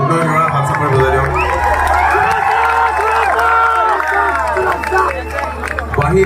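A concert crowd at a Matia Bihu show cheers, whistles and claps loudly and continuously, a dense roar of applause with music and a voice over a microphone mixed in.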